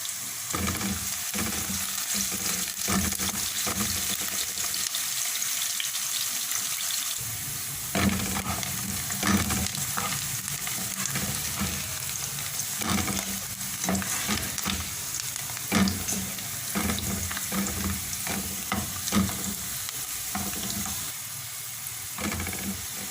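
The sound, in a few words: sliced onions frying in oil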